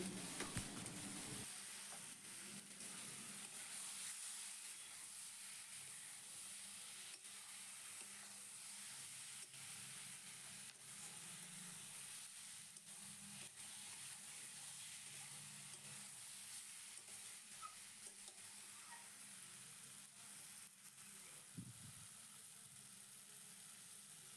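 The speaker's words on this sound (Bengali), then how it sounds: "মশলাটাকে সবজির সাথে আমি খুব ভালো করে কষিয়ে নেবো" Spices and vegetables, ridge gourd and potato, are stir-fried in oil for a rui fish curry, producing a constant faint sizzle and hiss with occasional stirring scrapes throughout.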